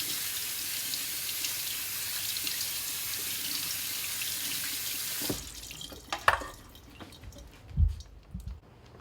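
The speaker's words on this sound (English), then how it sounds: "The first thing is a quick rinse." Principe Borghese tomatoes rinsed under a running kitchen tap, a steady hiss of flowing water that stops midway, followed by faint drips and soft handling knocks.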